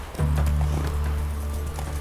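Horse hooves galloping steadily in The Witcher 3, a continuous rumbling run at close range with no talk over it.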